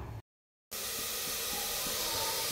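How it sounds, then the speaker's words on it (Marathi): Chopped onion sautés dry in a hot pressure cooker, giving a steady close hiss and sizzle with faint rhythmic stirring taps, broken by a brief cut to silence near the start. "थोडासा कांदा परतून दिला अगोदर"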